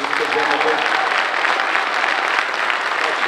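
An audience at a fall festival keynote gives a full round of applause, dense and even clapping that holds at a constant loud level throughout.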